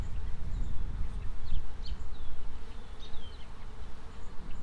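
A swarm of honey bees fills the air with a dense, continuous buzzing hum outdoors, close and loud, with higher whines of individual bees flying past.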